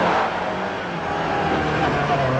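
A Ford Escort rally car pulls away under hard acceleration, its engine roaring loud and close with a steady, building drone and a faint voice briefly audible beneath it.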